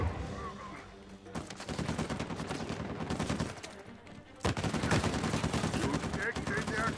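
Rapid automatic gunfire from a firefight in Uncharted 4, dense machine-gun bursts filling the mix with a short lull before another loud volley, and faint voices beneath.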